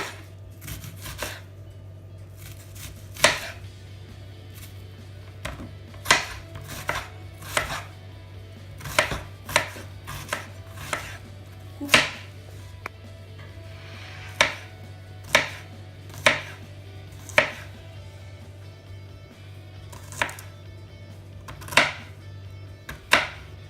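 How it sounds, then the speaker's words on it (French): An onion being chopped on a board in a home kitchen, sharp knife strikes landing one at a time at an uneven pace, close and clear over a low steady hum. "On coupe l'oignon."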